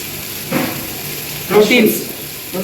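Mushrooms drop into a hot frying pan, giving short bursts of sizzling and stirring, with people talking over the cooking.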